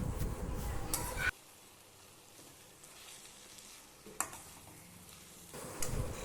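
Egg and Maggi noodles stirred together in a hot pan, with sizzling frying and scraping stir strokes loud at the start, a quieter stretch, then brief clinks and renewed stirring near the end; no one speaks.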